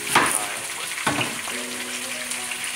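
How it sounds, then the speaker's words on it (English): Chopped onion sautéing in a pot for okra and green beans with pork neck bones, a steady broad sizzle with a couple of sharper bursts as pieces hit the hot pan, fairly close, with faint voice in the background. "I want to saute that in there to get all these beautiful flavors."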